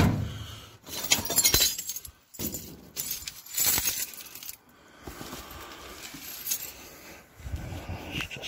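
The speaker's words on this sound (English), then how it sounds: "need to remove all of this broken glass here" Broken glass is shifted and cleared out of a store dumpster, giving repeated bursts of crunching, clinking and shattering shards in uneven handfuls, fairly close, with short pauses between scoops.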